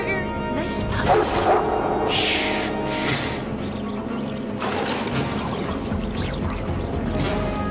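A dog barks and yips several times in an excited, uneven burst amid a chaotic scene, with people talking and shouting over and between the barks.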